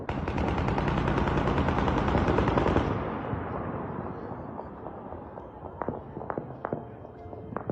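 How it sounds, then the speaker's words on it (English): Gunfire during a border gunfight: a sustained rapid burst of automatic fire lasts about three seconds, then sharp scattered single shots crack out at a distance. "There are videos surfacing as well on the borders of gunfights, gunfire"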